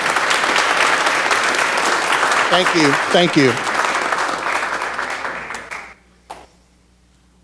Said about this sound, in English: Let's give a round of applause for their efforts.